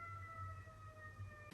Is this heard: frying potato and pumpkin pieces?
no